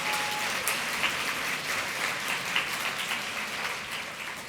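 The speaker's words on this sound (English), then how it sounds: "Can we give Teresa another round of applause?" A convention crowd at an opening ceremony applauds steadily, a broad wash of many hands clapping at moderate loudness for several seconds.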